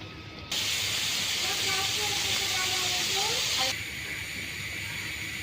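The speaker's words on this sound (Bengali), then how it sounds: "এখন হচ্ছে টমেটোগুলো দিয়ে দিই এই টমেটো দিয়েও একটু কষাই নিব" Tomatoes sizzle in a pan of spices for a hilsa fish curry, cooked outdoors under hot sun: a loud, steady frying hiss sets in after a brief pause and drops back to a softer sizzle near the end.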